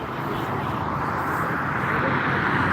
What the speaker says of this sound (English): A319, arriving from Rome Fiumicino Airport to Frankfurt International Airport in less than a minute